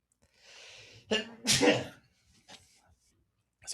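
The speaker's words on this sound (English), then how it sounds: "Sorry, I had to sneeze." A person sneezes once, with a quick inhaled buildup followed by a sharp, loud burst indoors and a faint breath or murmur afterward.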